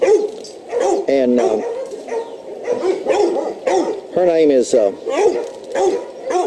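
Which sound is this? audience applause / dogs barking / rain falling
dogs barking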